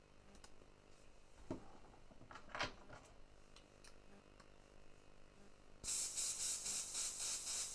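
An airbrush spraying paint onto 3D prints starts with a steady, close hiss after a few quiet ticks and clicks, the airy rush continuing to the end.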